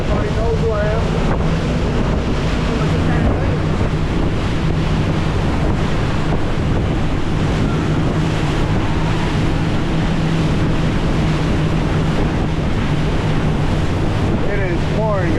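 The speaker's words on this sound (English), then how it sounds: "Probably one of the worst storms I've ever gotten caught in." Heavy wind roars across the microphone during a pouring rain storm on a boat run to Key West, with a constant rushing wash like driving rain and surf, loud and unbroken throughout.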